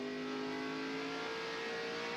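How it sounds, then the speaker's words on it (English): A NASCAR race car at the 2002 New Hampshire 300 holds a loud, steady engine roar as it accelerates off a corner, a sustained high-pitched drone with strong harmonics and no voices over it. "listen to the engine on Ryan Newman's car"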